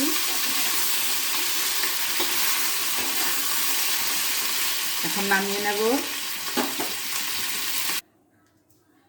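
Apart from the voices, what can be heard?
fish head frying in oil in a pan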